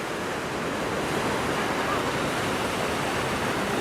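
Small ocean waves wash onto a Palm Coast, Florida beach in a constant steady roar of surf mixed with wind buffeting the microphone, with no voices.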